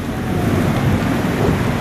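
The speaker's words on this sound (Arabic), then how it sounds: "أمطار بعواصف" Stormy rain in Al-Aziziyah, Mecca pours down as a loud, dense hiss with low rumbling from wind and thunder, filling the whole moment without voices.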